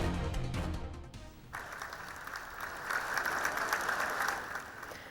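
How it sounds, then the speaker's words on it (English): Lawmakers in the Missouri legislature applauding, a steady chamber-wide clapping that swells after a brief quieter opening and continues for several seconds. "Democratic lawmakers clapping for their Republican leader."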